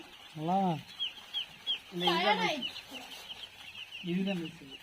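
A few nearby chicken clucks in short bursts, separated by brief pauses, over a faint background.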